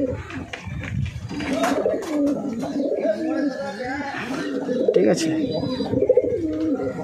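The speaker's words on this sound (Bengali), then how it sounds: "এই হচ্ছে পায়রা স্ট্যান্ডিং" Several pigeons, a male and a female, coo steadily nearby in a low, throaty rolling pattern that continues under a person speaking briefly.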